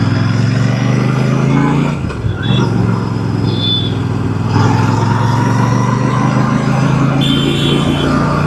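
A Royal Enfield Super Meteor 650 motorcycle cruises at night, its engine holding a steady low drone with a constant rush of road and wind noise that swells slightly midway.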